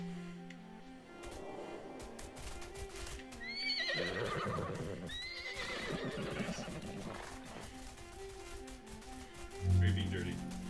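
A horse in the video game Play Together whinnies loudly in a couple of bursts, with clip-clopping hooves and background music beneath.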